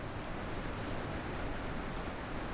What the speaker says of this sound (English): Maybe if I shut this waterfall off?